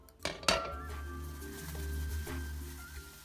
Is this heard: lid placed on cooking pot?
yes